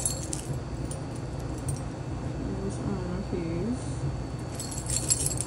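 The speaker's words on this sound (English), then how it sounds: "And my keys. Handy dandy keys, you know." A set of house keys jangles and clinks softly beside a work bag, faint metallic rattling under a steady hum, with someone speaking briefly.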